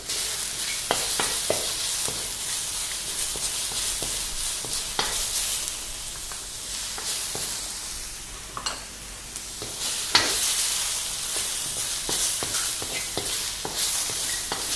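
Chopped tomatoes and slit green chilies sizzle steadily in a hot pan for drumstick soup, with a spoon scraping and stirring at a close, even level, no talking.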